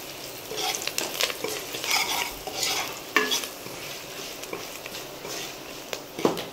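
A tadka of lentils and turmeric fries in oil for a poha mixture, sizzling softly while a spoon scrapes and stirs in quick, uneven strokes close by.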